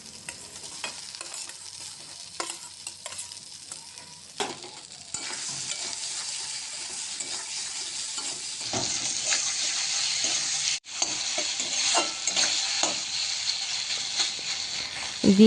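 Fried vegetables are stirred into cooked spice paste for a Bengali mourala fish curry, giving a loud continuous sizzle with scraping strokes that swell and dip, close by, with no talking.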